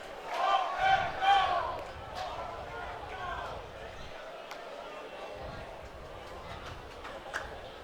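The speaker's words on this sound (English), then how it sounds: "Georgia crowd chanting, "Walk that dog."" Georgia home crowd at a college baseball game against Alabama chanting "Walk that dog", loudest in the opening seconds, then settling into a sustained murmuring crowd bed with faint pops.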